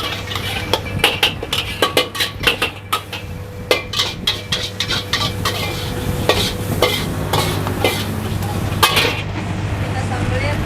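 Nasi goreng kampung being stir-fried in a pan: sharp metal spatula clinks and scrapes in an uneven rhythm over a constant sizzle and a low hum, loud and close.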